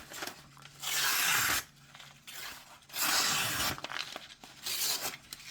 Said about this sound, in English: Y'all know I'm not the best at cutting paper on camera